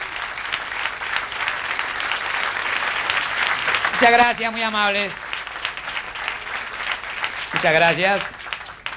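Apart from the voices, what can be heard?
audience applause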